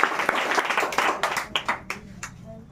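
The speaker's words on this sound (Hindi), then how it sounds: "जोरदार ताली" Loud applause at a school quiz competition, a burst of many hands clapping that thins out into scattered individual claps as it fades.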